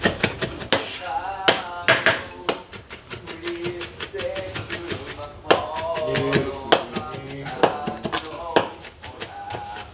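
An onion being finely chopped with a knife on a board, rapid irregular taps close by, running under frequent talking and laughter.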